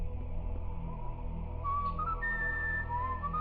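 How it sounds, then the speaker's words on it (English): A game character whistles the Indiana Jones theme in Serious Sam on PC: a clear, solo melodic whistle rising in a few sustained notes over a low, steady ambient hum. "He even whistled the Indiana Jones theme."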